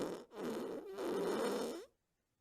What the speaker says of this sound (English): A bottom burp.